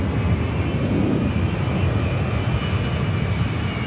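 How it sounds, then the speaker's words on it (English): Avianca Airbus A330 airliner at Los Angeles International Airport, a steady broadband engine roar holding at constant loudness throughout, with no voices. "The Avianca Vamos A330 heading back to San Salvador,"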